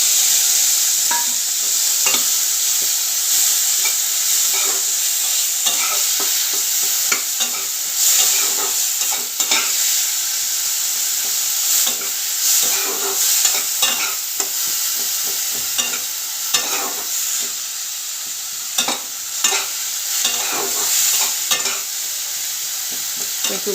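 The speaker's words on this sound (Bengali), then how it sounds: "পেঁয়াজটা ভাজা হয়ে এসছে, এবার আমি বাটা পেঁয়াজটা দিয়ে দিচ্ছি।" Onion paste fries in a pan over already-fried onions for a spicy Falui fish curry, a steady sizzle broken by frequent scraping stirs of a spoon, close and continuous with no talking.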